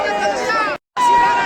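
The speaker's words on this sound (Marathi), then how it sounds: "गर्दी बघा" A dense crowd at the Shri Ram temple during the Mahakumbh in Prayagraj, a loud, close, steady hubbub of many voices that cuts out briefly before resuming.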